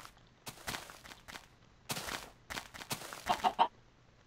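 Chickens in the Minecraft video game give a few soft clucks near the end, faint and quiet amid light clicking footsteps.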